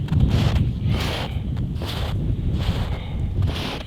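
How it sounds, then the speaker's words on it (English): Strong blizzard wind with sustained winds around 20 mph and gusts near 35 mph roars across the microphone, a dense rushing buffet that swells in repeated gusts throughout. "20 mile an hour sustained winds, 35 mile an hour gusts."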